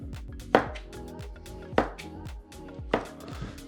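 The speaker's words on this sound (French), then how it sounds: "On va couper des grosses tranches." A knife slices through a cucumber on a cutting board in three crisp, evenly spaced chops, each a sharp close knock, with quiet gaps between and no speech.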